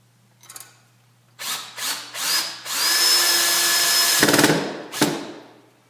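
A power drill driving drywall screws with washers, heard as several short whirring bursts followed by one long sustained spin and a final quick burst, close and loud with no talking.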